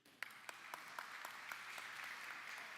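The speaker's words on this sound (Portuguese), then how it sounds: "Você pode aplaudir a vida deles?" Church congregation applauding a ministry team during a sermon, heard as a faint, steady wash of distant clapping with a few sharper claps near the start, continuing throughout.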